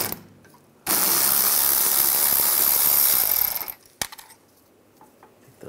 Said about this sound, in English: Now we're going to take the brake caliper bolts out, use a 13 millimeter socket.